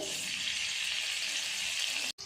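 Oil heating in a pan, a dense, even sizzling hiss that stays loud and steady throughout, briefly cut off just before the end.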